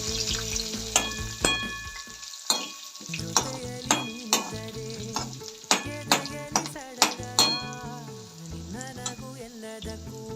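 Green chillies sizzle in hot oil in a pan for khara pongal, a steady close frying hiss punctuated by a series of sharp metallic clinks as a spoon stirs against the pan.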